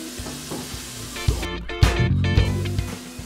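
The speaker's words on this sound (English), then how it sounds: "To this mixture I will add about half a teaspoon of turmeric to the pan, straight into the oil." About half a teaspoon of turmeric hits hot oil in a pan, giving a steady loud sizzle and crackle close by, with brief stirring scrapes and no talking.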